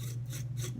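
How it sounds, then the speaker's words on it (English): Garlic rubbed against a kitchen grater gives two short, soft rasping strokes over a steady low hum, close by and brief. "grating the garlic. Mince or grate the garlic."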